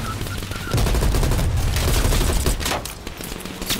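Loud bursts of automatic gunfire and rapid fusillades fill a combat scene in the video game Call of Duty Black Ops Cold War, with dense, sustained shooting close by.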